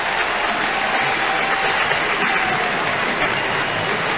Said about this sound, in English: The crowd is truly into it.